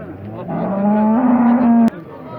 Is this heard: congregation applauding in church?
no